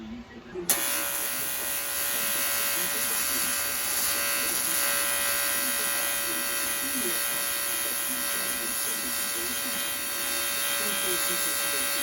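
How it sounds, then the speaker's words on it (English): Pipe for a custom motorcycle airbox built from scrap is being welded, giving a steady, loud electric buzz with a humming drone that starts abruptly just after the first moment and holds unbroken to the end. "just going to start welding that now"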